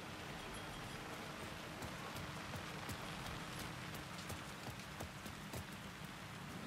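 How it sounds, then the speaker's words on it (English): Hail pelts down in the video game Alan Wake 2, a dense, steady patter of rattling ticks with sharper individual impacts cracking through now and then, continuous and fairly close. "The hail? That's new."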